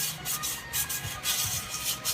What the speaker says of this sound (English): get the emery cloth thing and sand this